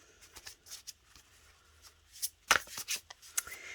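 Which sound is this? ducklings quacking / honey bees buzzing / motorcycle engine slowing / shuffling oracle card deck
shuffling oracle card deck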